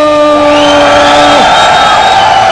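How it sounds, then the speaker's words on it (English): A large arena crowd at the EVO 2012 fighting game tournament cheers and whoops for a King of Fighters XIII player during the winners final, a loud, continuous roar of voices. "The crowd giving it up for Bala."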